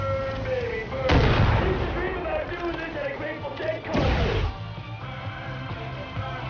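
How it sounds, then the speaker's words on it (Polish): Two heavy booming blasts from remote explosive charges in the video game Far Cry 5, spaced a few seconds apart with rumbling tails, while someone talks over the gameplay. "Zdalny ładunek wybuchowy."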